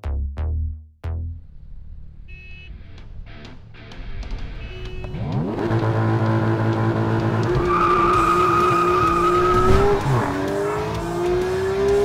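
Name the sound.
sports car engine racing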